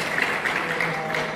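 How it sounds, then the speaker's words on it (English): Audience applause at the close of a conference talk on WCAG accessibility implementation, a steady dense patter of clapping filling the room, loud and continuous without breaks. "To give you a huge round of applause."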